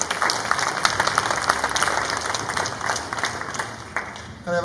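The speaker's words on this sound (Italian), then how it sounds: "Un applauso." An audience at an outdoor emerging-music festival evening in a villa garden in Malo applauds the artists and organizer, steady sustained clapping from a sizable crowd throughout, fading slightly near the end.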